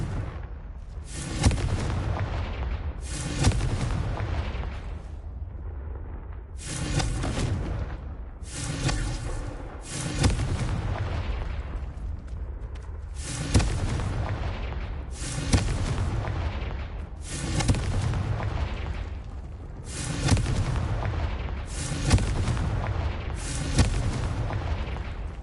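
Repeated fiery blasts from the Confringo spell in Hogwarts Legacy, a series of loud booming bursts spaced a few seconds apart, each with a crackling tail, played alone with no talk.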